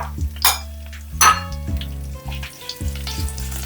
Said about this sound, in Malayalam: നമ്മള് കടുക് പൊട്ടി കഴിഞ്ഞു, ഇനി റെഡിയാണ്